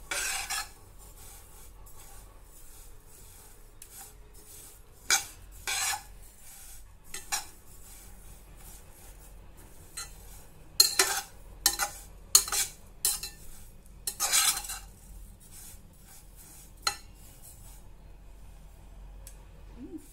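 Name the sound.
stirring roasted cumin seeds in a pan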